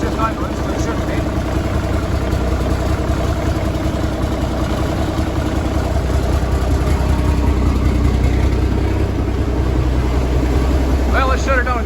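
A Versatile 895 tractor engine idles at a steady, low, throbbing rumble, heard up close and continuous throughout with no change in pitch.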